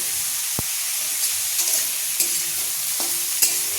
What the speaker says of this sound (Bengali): মটরশুঁটি দিয়ে দিলাম, মটরশুঁটি সুন্দর করে ভাজতে হবে পরিমাণ মতো